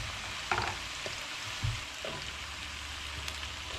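Potatoes fry in a pan with a steady soft sizzle, broken by a few clinks and scrapes of stirring, close and fairly quiet with no talk.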